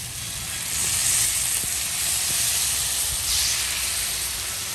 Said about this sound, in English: I'm gonna let that fry up a little bit